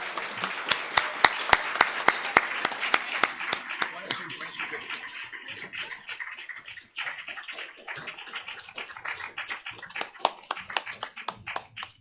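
Audience applause at a 2023 awards luncheon, a dense burst of close clapping from a room full of people that thins slightly then swells again, with sharp individual claps standing out and some voices mixed in.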